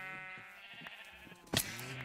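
A Minecraft sheep bleats faintly in the background, with soft low game ambience and a brief sharp click near the end.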